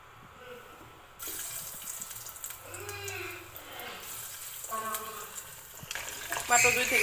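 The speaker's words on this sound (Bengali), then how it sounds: "এখানে টোস্ট বিস্কুটের গুঁড়াটার মধ্যে কোট করে তারপর আমি তেলে ভেজে নেব" Chicken nuggets coated in toast biscuit crumbs fry in hot oil with a steady, fairly faint sizzle that swells partway through, with some watery kitchen noise mixed in.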